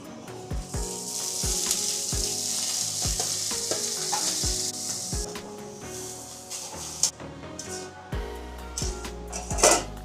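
Greens frying in a pan with dried red chilli and nigella seeds, a no-onion, no-garlic Bengali dish of potatoes, vadi and fenugreek leaves: a steady, loud sizzle with clinks and scrapes from stirring and utensils against the pan.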